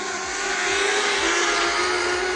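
A speedway race car at Gympie Speedway roars loud and close through the hairpin corner, its engine a steady, unbroken howl for the whole stretch.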